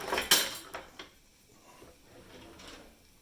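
Metal kitchen utensils clatter and rattle as a small spatula is pulled from among them, a loud jangle at first followed by a few lighter clinks and quiet handling.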